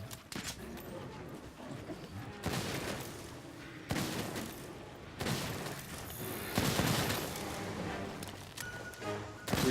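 Video game gunfire in Monster Hunter World rattles out in bursts of rapid shots separated by short pauses, loud and close, with no voices over it.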